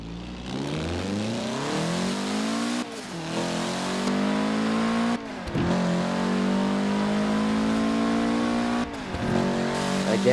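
A Mitsubishi car in Forza Horizon 4 revs hard through the gears, its engine climbing in pitch and dropping at three sharp gear changes, loud and close with a bit of tire squeal.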